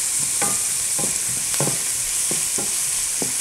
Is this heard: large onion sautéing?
yes